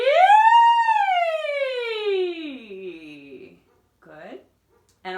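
A singer's voice imitates a siren in a vocal warm-up exercise: one long loud glide that rises then slowly falls, tapering off. A short quieter vocal swoop follows after a pause.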